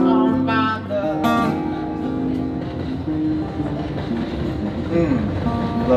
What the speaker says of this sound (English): Love that train.